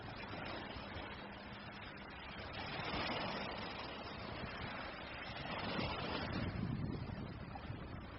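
Sea waves surge and wash in a broad, steady rush, swelling gently twice, with a windy, muffled quality, at moderate level and without speech.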